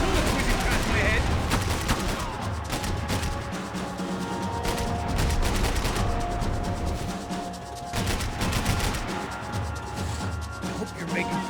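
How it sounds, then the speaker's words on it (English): Heavy gunfire in Max Payne 3: sustained bursts of automatic fire and sharp shots with bullets cracking past, loud and close, with brief lulls and louder volleys, amid a chaotic firefight. "I can't concentrate with bullets whizzing past my head."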